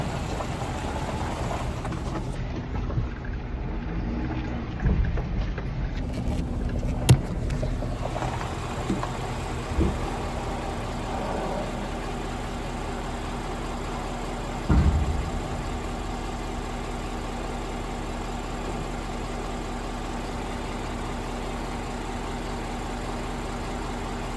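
A vehicle hitched to a dump trailer pulls ahead, its engine giving a low, steady idle-like rumble with a few faint clunks and knocks along the way.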